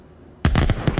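Fireworks explode in the VR game Summer Lesson: after a brief quiet lull, a sudden loud burst breaks into a rapid series of crackling pops, close and filling the scene.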